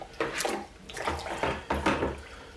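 Water splashes and sloshes as a Harbor Freight camera case is lowered into a tub of cold water, several short watery bursts at close range with no talking.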